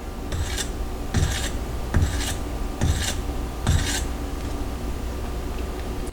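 Edge of a Ruike P801 knife in 14C28N steel being deliberately dulled, giving five evenly spaced rasping scrapes about a second apart, each a short, close, gritty stroke over quiet background.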